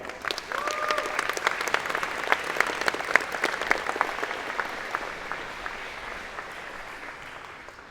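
A convocation audience at a 2022 engineering and computer science ceremony breaks into steady, full applause, many hands clapping at once, with a brief whistle early on, gradually thinning toward the close.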